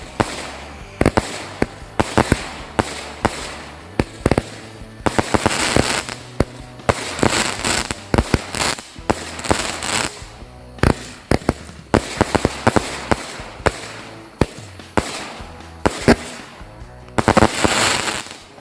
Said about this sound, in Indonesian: Itu dia hasilnya ya, mercon 5 element.